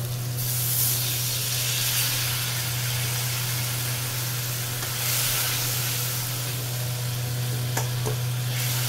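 Spices frying in a pan for a Bengali garlic fish curry hiss and sizzle steadily after a splash of water, a continuous close, even spitting sound with a low steady hum beneath and a few light clinks.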